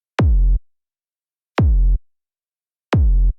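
A synthesized hard techno rumble kick built in Serum strikes three times at slow, even intervals, each hit a sharp click dropping into a deep, booming low thud that cuts off cleanly, loud and alone.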